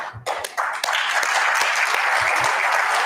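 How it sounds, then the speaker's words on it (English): Steady crowd applause fills the room for Belgian Prime Minister Bart de Wever at a gathering of the Jewish community, a close, even roar of many hands clapping that holds without pause. "I would like you all to ask also for an applause for the Prime Minister"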